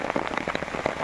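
Rain pours steadily outdoors in a village, with dense pattering drops striking surfaces close by in a busy, uneven rhythm and no voices.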